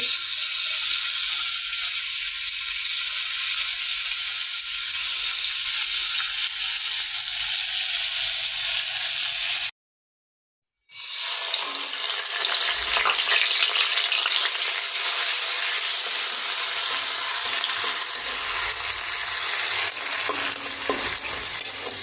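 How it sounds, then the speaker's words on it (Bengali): Rohu fish pieces coated in turmeric, chili and salt frying in hot oil, a loud continuous close sizzle that cuts out for a moment, then returns strongly with some light scraping, and nobody speaking. "হলুদের গুঁড়া মরিচের গুঁড়া লবণ দিয়ে মাখিয়ে রাখছি মাছগুলো ভাজতে দিচ্ছি"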